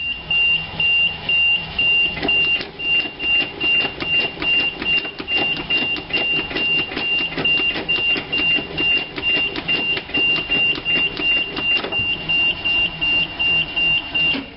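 Starter cranking a 1986 GMC Blue Bird bus engine with a rebuilt carburetor on a cold start, a steady loud rhythmic churning that runs nonstop without the engine catching.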